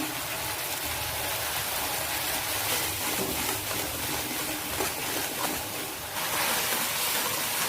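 Ground spices with turmeric and salt frying in a pan, giving a steady, dense hiss of sizzling oil close up, unbroken throughout and briefly louder near the end.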